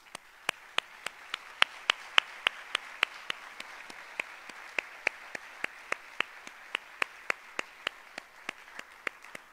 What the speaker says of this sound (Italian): per Franco Battiato chiedo un applauso